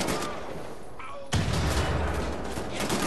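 Dense, continuous gunfire in Wolfenstein: The New Order rattles loudly, with a heavy booming layer kicking in partway through, like a sustained firefight echoing in an enclosed bunker.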